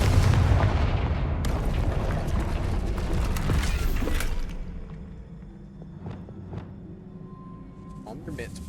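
A Confringo blasting spell in Hogwarts Legacy goes off as a loud, dense explosive boom with a rumbling tail for several seconds. After that the sound eases off into quieter game ambience scattered with small impacts.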